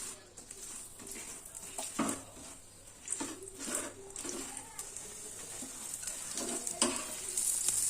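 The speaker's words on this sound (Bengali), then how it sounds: "ভেজে নেবো পরোটাটা।" Sattu paratha frying in refined oil in a home kitchen pan, a soft steady sizzle with occasional louder bursts as the flatbread is pressed or shifted, close by.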